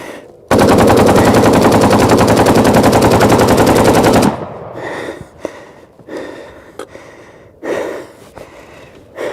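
An AK assault rifle fires a long, loud, unbroken full-auto burst for about four seconds, then stops; afterward come scattered clanks, breaths and rustles nearby, with no talk.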